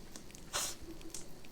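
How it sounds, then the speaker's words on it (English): A single sharp sneeze bursts out briefly in a quiet indoor setting, a short breathy explosion standing alone with faint room noise around it. "I should have known the sneeze was coming"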